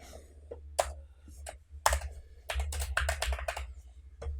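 A computer keyboard is typed on in short bursts of close, crisp clicks, sparse at first and then a quicker run of keystrokes.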